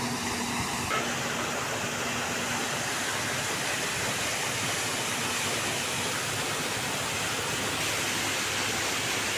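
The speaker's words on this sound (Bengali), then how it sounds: "মেশিন দিয়ে এই জায়গায় সে পানি বালু ফেলতেছে" Steady broadband rushing of water and sand pumped by a machine onto a site in Mymensingh pours without pause, a loud, even wash like a waterfall with a faint mechanical hum underneath.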